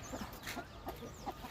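A rooster of the red-black Katti Saval fighting breed clucks in a few short, soft bursts at close range, with faint background birdsong and farmyard ambience.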